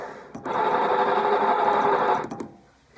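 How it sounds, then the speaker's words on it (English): Air blown steadily through a tuba while a valve is wiggled, a breathy, hollow rush lasting about two seconds with a faint tonal hum, close up and alone. "blow some air into the horn while you're wiggling it around"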